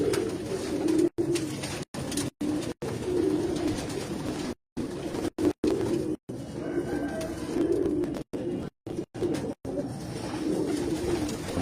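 Pigeons cooing, including a female breeder pigeon: repeated low, soft coos rolling on and off across the clip, close by, with small gaps of silence between phrases.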